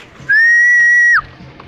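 A person gives one loud, clean, steady whistle held for about a second, ending with a quick downward slide, while releasing pigeons outdoors.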